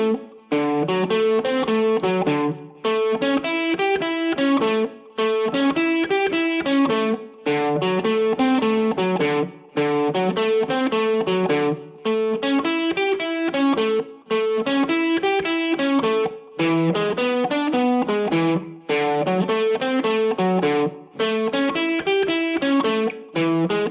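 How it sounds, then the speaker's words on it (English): Electric guitar with distortion plays a 12-bar blues in arpeggios, steady picked note patterns grouped in repeated phrases with brief gaps between them, loud and alone. "So if I play through that as a 12-bar blues, it sounds like this."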